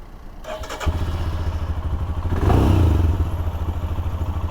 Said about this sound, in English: So yeah, that just starts up. It's got that nice little chug about it. It's pretty quiet.